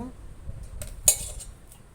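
A spoon stirs oil into urad dal flour in a bowl for sesame papad, giving a few soft scrapes and one sharp metallic clink against the bowl, close and otherwise quiet.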